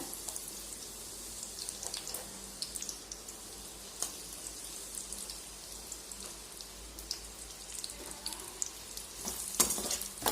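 Chopped onion frying in hot oil for egg noodles makes a continuous, fine, rain-like sizzle with occasional faint stirring clicks, steady and moderately quiet, no voices.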